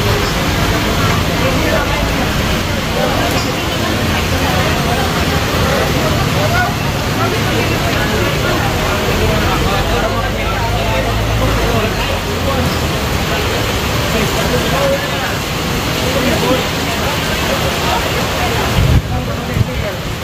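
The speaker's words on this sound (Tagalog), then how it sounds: "Ang lakas ng ulan." Heavy rain during a typhoon pours down in a loud, dense, unbroken roar at a market with vendors, filling the whole stretch, with voices of people talking faintly underneath.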